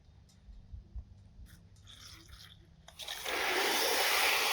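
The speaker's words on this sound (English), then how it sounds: "I'm gonna put a little bit of water on top." Water pours onto a compost worm bin topped with dry cardboard, a soft steady splashing rush that starts partway through after a few faint handling sounds and continues loudly to the end.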